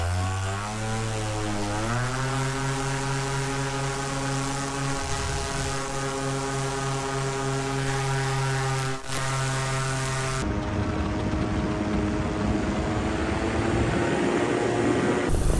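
A paramotor engine roars steadily during launch, loud and close, with its propeller drone holding a constant pitch before climbing and then changing tone as it moves away.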